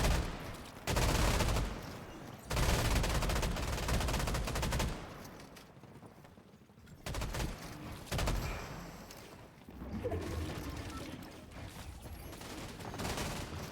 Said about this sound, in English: Boltz and Khanada have been shooting the whole game.